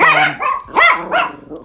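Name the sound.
dogs barking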